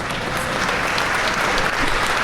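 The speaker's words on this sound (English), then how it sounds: "You're supposed to applaud after that" Audience applause fills a keynote hall at Zoomtopia, a dense, steady clapping from a large crowd sustained at even loudness throughout, with no voices over it.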